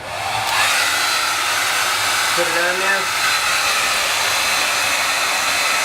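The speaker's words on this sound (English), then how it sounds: "The first way I've instructed is with the hairdryer." Hair dryer blowing steadily and loudly onto a pet table top cover to warm it, a constant airy roar with a person briefly speaking over it.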